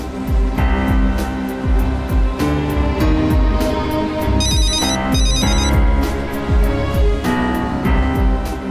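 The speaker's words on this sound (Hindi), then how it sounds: "अभी अलिफ का फोन आया था इस नंबर से" A mobile phone ringtone plays loudly and continuously, a repeating electronic melody with steady beats and bright tones, close and dominant throughout.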